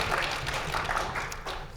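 Players at a tabletop role-playing game session at GenCon giving a short round of clapping, soft and somewhat distant with a faint murmur of voices beneath.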